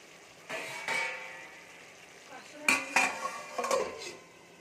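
Spice masala is stirred and cooked in a covered pot over a low-to-medium gas flame, with a few clanks of a metal spoon against the pot and a faint sizzle between the knocks.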